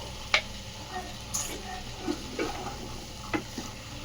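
Ginger garlic paste frying with onions in a pan, a soft low sizzle with occasional light clinks and stirring scrapes, fairly quiet and without speech.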